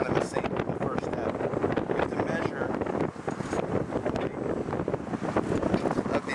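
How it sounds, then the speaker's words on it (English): Outdoor wind buffeting a microphone while Christmas lights and cables are put up: a steady, loud, rumbling roar that runs throughout, with brief dips. "it's a little difficult because the wind's blowing the cable"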